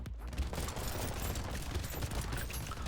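Rapid, continuous automatic gunfire from a legendary weapon in a video game: a dense, sustained barrage of shots with no pauses.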